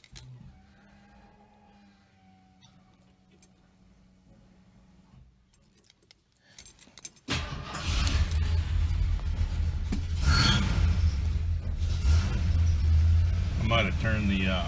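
A 1973 Gran Torino V8 fitted with Holley Sniper EFI cranks and fires up halfway through, settling into a loud, deep, steady idle close by, after a quieter stretch with faint background sounds.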